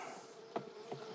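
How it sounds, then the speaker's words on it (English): Bees buzz around a side-stacking hive with a faint, continuous hum, plus a couple of brief soft taps. "Just a few bees wandering around."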